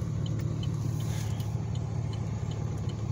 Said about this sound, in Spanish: salen unos pequeños jaloncitos para que vean cómo jala el motor super plastiqueado